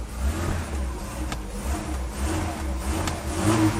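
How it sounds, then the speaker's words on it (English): A 1983 BMW 320i E21 engine, just brought back to life and running a little rough, revs up and down under throttle several times, loud and close with uneven surges. "It has throttle response."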